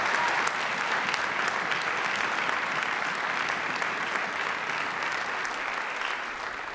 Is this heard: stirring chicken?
no